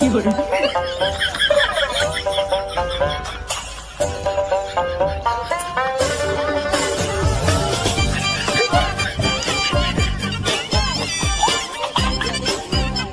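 A mare whinnies and neighs in repeated shrill, wavering bursts, loud and close, amid dense busy sound with voices talking.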